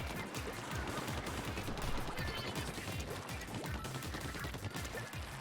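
Splattershot firing in Splatoon 2, a dense rapid stream of shots rattling continuously under faint game sounds, fairly quiet overall.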